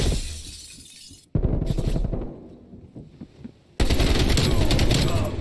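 AK47 fire in Call of Duty Cold War comes in loud, dense automatic bursts with shattering crackle, dropping briefly to quieter scattered shots before another heavy burst. A voice talks in between.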